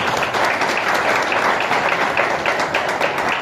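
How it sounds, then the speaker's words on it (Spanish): Audience applause at a scientific writing workshop: brisk, continuous clapping from a modest group, steady and fairly loud for the whole few seconds. "Un aplauso para ellas."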